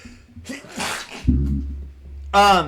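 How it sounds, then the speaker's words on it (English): A single loud sneeze bursts out after a sharp intake of breath, close to the microphone, with a short voiced sound trailing at the end. "I have to sneeze."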